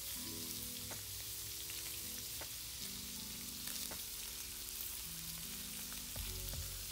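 Shrimp stir fry sizzling in a pan, a constant close hiss with scattered crackles and pops, steady throughout with soft music faintly underneath.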